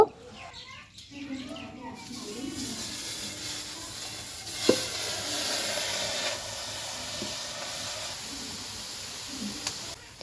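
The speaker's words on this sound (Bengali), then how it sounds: "চুলার উপরে কড়াই বসাই দিলাম আর এই কড়াই এখন শাকগুলাকে সিদ্ধ করে নেব" Leafy greens simmer in a wok set on a clay stove, giving a steady, moderate steamy hiss that lasts most of the clip, with chickens clucking and birds calling faintly in the background.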